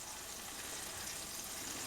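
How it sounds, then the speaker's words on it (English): Butter melting in a pan over low heat gives a faint, even sizzle with a soft bubbling hiss, brief and alone. "You want a nice pool of melted butter here going."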